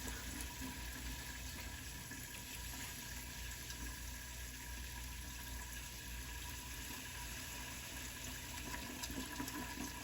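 Water rushes steadily through a clear hose while a water softener is backwashed, a continuous close hiss and gurgle with no pauses or voices.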